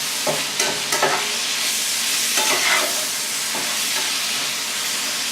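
Pan being stirred and scraped while still sizzling after frying patties, several sharp scraping strokes near the start and middle over a constant hiss of frying, close and fairly loud.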